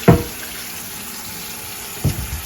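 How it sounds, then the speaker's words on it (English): Hot tap water runs steadily into a cast iron skillet at a kitchen sink, a continuous broadband splashing hiss throughout, with two brief louder bursts as the flow or pan shifts near the start and end. "So I'm going to run some hot water in my skillet."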